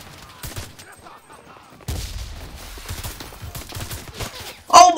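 Gunfire from a squad's machine gun and automatic weapons in the multiplayer shooter Enlisted, a burst of dense shots and battle noise with a sharp loud crack at the end.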